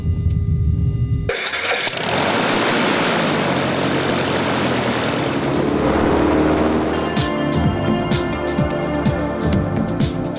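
An aerobatic propeller airplane's engine starts abruptly and settles into a loud, sustained drone with a buzzing propeller near an aircraft carrier, later broken by a rapid sputtering flutter toward the end.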